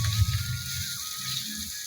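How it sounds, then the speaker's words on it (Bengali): Rohu fish pieces fry in hot oil with spices, giving a soft, continuous hiss with faint low bubbling underneath, heard alone at a fairly quiet level. "আমি মশলা দিয়ে মাছ ভাজা করি।"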